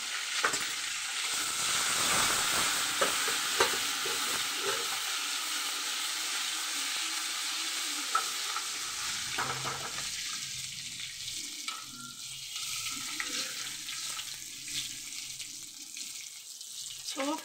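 Butter and desi ghee with two dried red chillies and a pinch of cumin sizzle steadily in a pan, a continuous close frying hiss with occasional stirring clinks throughout.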